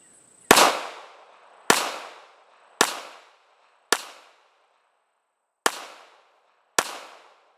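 Six sharp shots from a Ruger LCP pistol, loud and close, fired in quick succession with short echoing decays and one slightly longer pause near the end.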